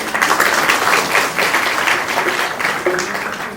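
Schoolchildren at the Sri Sathya Sai temple in Rekhapalli give a steady, loud round of applause lasting several seconds, many hands clapping together in a continuous wash.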